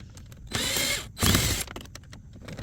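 Ratcheting clicks as a bolt is worked loose on the center console of a 2015-2021 Dodge Charger, two close bursts of rapid mechanical clatter separated by a short pause, with quiet handling sounds around them.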